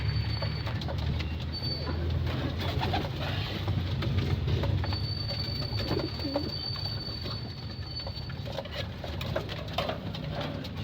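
Pigeons coo softly and repeatedly in a loft, low, throaty calls scattered through a busy background of rustling, pattering and faint bird noises, with no talking.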